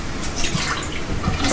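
Water pouring from a tap into a pet's bowl, a loud, close, steady splashing rush with uneven gurgling texture throughout, no voices over it.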